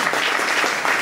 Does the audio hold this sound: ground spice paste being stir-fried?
no